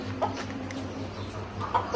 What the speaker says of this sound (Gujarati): બાકી આપણો કુકડો